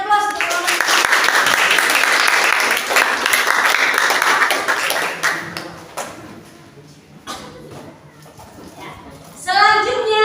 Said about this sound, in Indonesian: Yuk, beri aplaus untuk kelompok.